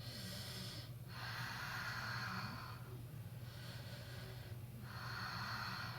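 Deep, audible breathing in a yoga class, long airy inhales and exhales alternating in a slow steady rhythm over a constant low hum, fairly quiet and close.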